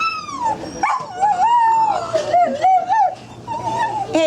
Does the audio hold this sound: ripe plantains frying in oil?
no